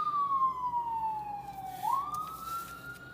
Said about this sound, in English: Sirens in the back for confirmation.